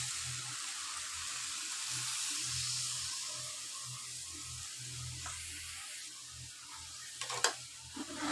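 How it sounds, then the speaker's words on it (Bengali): Water pours and runs into a cooking pan of loitta shutki bhuna (dried Bombay duck curry) on a home stove, a low steady wash with light stirring and a few sharper clinks near the end; no talking. "তো এখন পানি অ্যাড করে দিচ্ছি বন্ধুরা"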